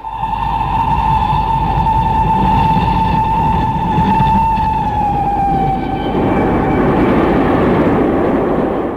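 A train running at night in an audio drama: a long sustained horn-like tone rides over a heavy, steady rumble of running noise, loud and close throughout, with no voices.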